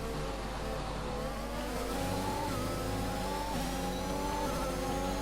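Race car engine from the F1 video game Braking Point, a steady loud drone with rising harmonic whine as it accelerates through an overtake, continuous for the full stretch with no talk.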